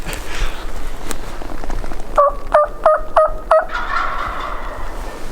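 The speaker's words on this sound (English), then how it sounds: "we just heard some turkeys gobble" Five loud wild turkey gobbles in quick succession, close by in Wyoming, with steady background rain or wind noise before and after.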